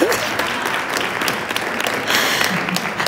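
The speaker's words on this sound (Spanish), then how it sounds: "gracias por este aplauso" An audience at a round-table discussion breaks into steady applause, a dense, sustained patter of clapping filling the room at moderate loudness throughout, with faint voices underneath.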